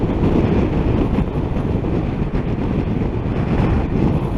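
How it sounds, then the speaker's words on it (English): Heavy, loud wind buffeting from riding a 2022 CF Moto MT650 motorcycle at about 70 mph on a dual carriageway, a dense continuous low roar without a break. "I am getting a lot of wind"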